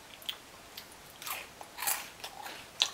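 Close-up crunching bites and chewing of a crunchy graham cracker, a few crisp snaps spaced irregularly over quiet background, no talking.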